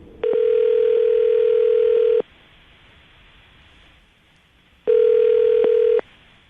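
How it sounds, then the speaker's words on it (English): Steady telephone dial tone sounds loudly in two bursts, about two seconds then a pause and another second-long burst, with quiet line hiss between and no talking. "I'm going to dial this phone over right now, okay?"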